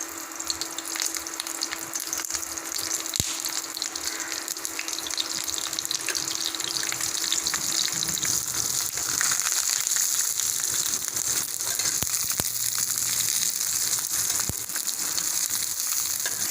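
Fish frying in oil on a banana leaf, a steady close sizzle and crackle that runs throughout with a few sharp pops and scrapes, no talking.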